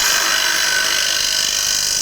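A wooden bowl is hollowed with a straight bar fitted with a 1/4-inch cutting bit, giving a loud, continuous, high-pitched power-tool whine that holds steady without any break.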